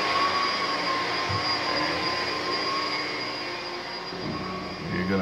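A carpet cleaning vacuum runs with a steady, loud droning whoosh and whine that barely changes for several seconds, with no voices.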